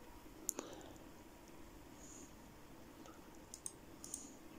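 Several faint, sharp computer mouse clicks in a quiet room, a pair near the start and a few more toward the end, while selecting menu options in a document editor.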